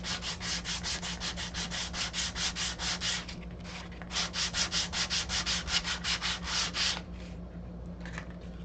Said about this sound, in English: Okay, and I'll sand this side too a little bit.